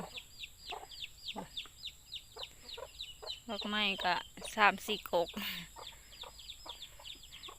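Farmyard chickens and their chicks cluck and cheep in rapid bursts near a garden plot, with someone speaking over and between the calls.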